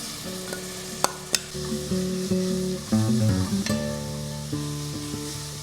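Masala paste of ground coriander seeds, cumin, poppy seeds and cloves frying in hot oil, a continuous close sizzle with spoon stirring and scraping against the pan, and a couple of sharp clinks.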